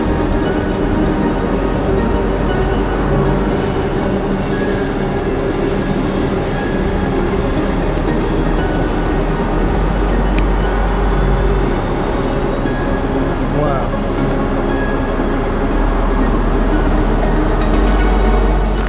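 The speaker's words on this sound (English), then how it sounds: "now I can hear a freight train coming." A long freight train rolls past on the Lapstone Zig Zag line in the Blue Mountains, a loud, continuous rumble of wagons with a heavy low drone and steady rail noise throughout.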